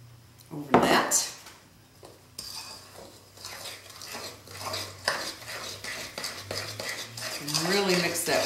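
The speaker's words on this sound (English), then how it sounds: "And really mix that well so it's not real lumpy" A utensil scrapes and clinks against a bowl while cranberry pie batter of egg, flour, sugar and melted butter is mixed, with uneven stirring knocks, a sharp clatter early on and a voice talking near the end.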